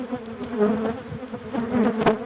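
Dense buzzing of many honeybees covering a hive frame, a steady close hum with shifting pitch and no voices.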